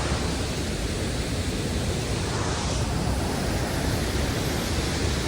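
A waterfall's water splashes and rushes in a dense, constant roar close by, filling the whole scene steadily without pause, with no voices heard.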